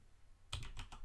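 Typing on a computer keyboard: a quick burst of four or five crisp, close keystrokes in rapid rhythm, fairly quiet, with no talk.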